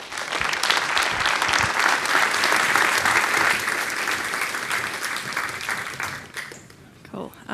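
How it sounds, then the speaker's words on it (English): A conference audience breaks into sustained applause after a speaker is introduced, a dense wash of clapping that fades out toward the end. "Can you all give a big round of applause to Kim?"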